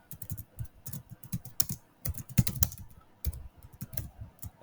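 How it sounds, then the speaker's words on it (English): Close, irregular keystrokes on a computer keyboard while entering a Python print statement, clicking in quick bursts with brief pauses and no voice. "I'm typing here."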